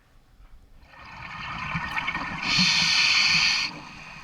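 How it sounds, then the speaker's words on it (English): Scuba diver breathing through a regulator underwater on a reef off Mauritius, a soft inhale building into a loud hissing exhale burst of bubbles, close to the microphone. "can you hear my breathing accelerate as we spot the shark again?"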